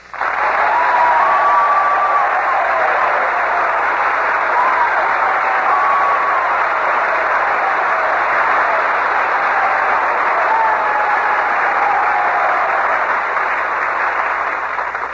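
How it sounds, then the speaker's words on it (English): Sustained applause from a large audience of Navy servicemen in Corpus Christi, Texas, 1945, steady and loud throughout, with a few faint whistles rising over the clapping. "Well, Robert, you can tell by that applause that these boys are all intensely interested in your Navy career."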